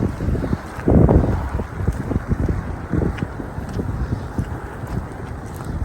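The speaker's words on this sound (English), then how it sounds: "Sorry about the wind, but there's not really much I can do about that." Strong wind buffets the microphone in gusty, rumbling bursts beside high floodwater at Potter Heigham in Norfolk during spring tides, loud and continuous throughout.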